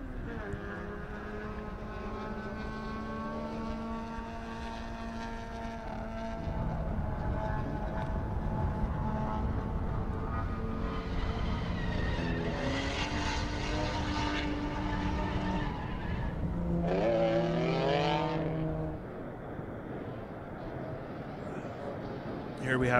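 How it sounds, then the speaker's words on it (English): Race cars roll out one after another onto the Circuit of the Americas track during a time-attack event, with loud, sustained engine drones rising and falling in pitch, mixed with a commentator talking over them. "These are the Group 2 Session 2 cars coming out."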